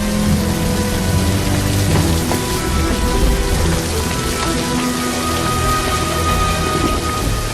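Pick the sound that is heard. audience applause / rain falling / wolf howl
rain falling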